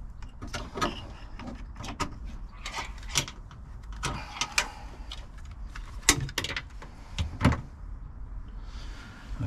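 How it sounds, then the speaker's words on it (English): Door lock actuator on a Range Rover Sport L320 cycling through locking and unlocking, a series of sharp close mechanical clicks and brief whirring thunks repeated irregularly with no voice. "I'm going to see if anything happens when I lock and unlock the door."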